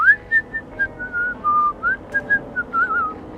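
A game character in Thief whistles a tune, a clear solo melody of short and sustained notes with little else around it.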